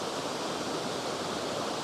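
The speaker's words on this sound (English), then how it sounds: "I can hear the water running. Sounds like it's flowing pretty good down there." Water running down a waterfall stream along a wildflower hiking trail, a steady broadband rushing roar, even and unbroken, heard alone without voices.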